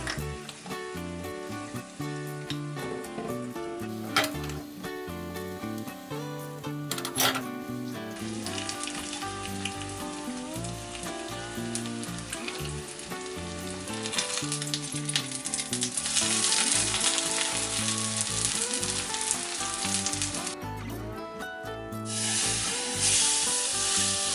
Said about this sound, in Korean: 낙낙히 기름을 두른 팬에 잘 붙여주세요.